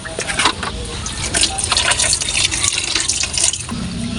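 Hot water is poured over freshly caught fish to clean them, running and splashing steadily, a continuous hissing pour with a slight gurgle, fairly close, no voices.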